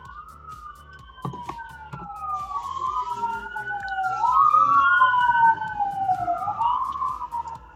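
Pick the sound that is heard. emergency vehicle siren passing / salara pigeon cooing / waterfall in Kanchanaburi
emergency vehicle siren passing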